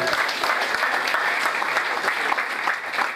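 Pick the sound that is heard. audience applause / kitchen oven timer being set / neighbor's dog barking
audience applause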